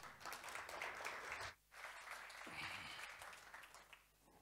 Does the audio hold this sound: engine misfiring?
no